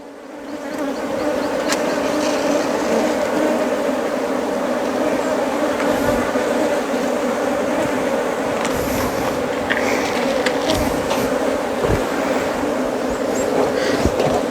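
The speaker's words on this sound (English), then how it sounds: "right now I have bees all over me" Swarm of honey bees buzzing loudly and steadily around a beekeeper at a medicinal honey farm, a dense continuous drone close by with occasional sharper passes near the ear.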